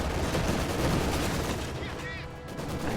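Maxim machine gun fire in a real-time strategy game, a dense continuous rattle of bursts blended with other battle noise and distant explosions, steady and fairly loud throughout.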